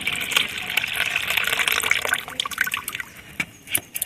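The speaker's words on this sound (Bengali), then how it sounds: "দেখুন বন্ধুরা এই লিকুইডটা এর মধ্যে ঢেলে নিলাম" Liquid fertilizer made from fruit peels pours steadily into a container as a continuous splashing gush, close and fairly loud, then thins into a few separate drips and trickles near the end.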